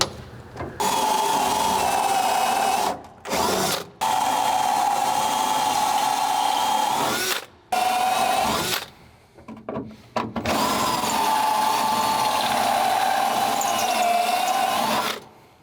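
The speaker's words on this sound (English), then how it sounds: "now we should be able to use the step bit" A step drill bit bores through sheet metal on a 1967 Plymouth Barracuda, a steady loud grinding whine that runs in long bursts, broken by several short pauses as the drill stops and restarts.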